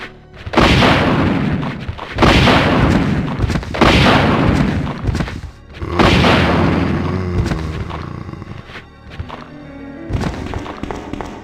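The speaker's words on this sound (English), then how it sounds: "I am losing stuff by using the rocket launcher, but today is a rocket launcher day" A rocket launcher fires at zombies in the classic Resident Evil 2 video game, producing a series of four or five loud, heavy booms with rumbling tails, spaced a second or two apart.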